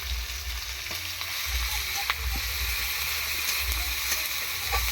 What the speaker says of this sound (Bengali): রসুনটাকে দিয়ে রসুন এবং পেঁয়াজ কাঁচা লঙ্কাগুলোকে সবগুলোকে একসঙ্গে দিয়ে এভাবে নাড়তে হবে